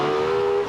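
Lexus LFA supercar passing at speed on a track, a loud sustained high-pitched engine tone, very close and brief, without talk.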